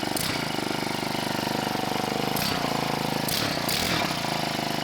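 A small two-stroke hedge trimmer engine, running with the choke on, runs steadily at a rough idle, loud and close, with a few brief surges in pitch.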